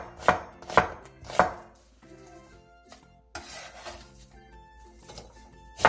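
A knife cuts half an onion into thin strips on a board. Three sharp, close chops come in quick succession, then lighter scraping and slicing sounds, and a final chop.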